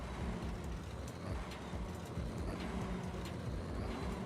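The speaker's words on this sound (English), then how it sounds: "This has an awesome engine sound to it." A vehicle engine in Farming Simulator 22 drones steadily with low rumbling and faint intermittent clanks, a continuous moderately loud mechanical hum without speech.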